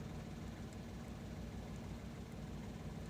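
Toyota Agya / Daihatsu Ayla manual car engine idling just after starting, a faint, steady low hum that holds even with no talking.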